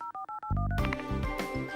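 Touch-tone telephone dialed in a cartoon, a quick series of distinct beeping tones, then a busy burst of cartoon sound effects and music.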